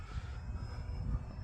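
E-flite Ultra Stick RC airplane on a 3S battery flying overhead, a faint, steady electric motor drone with low rumbling wind noise, heard alone at a distance.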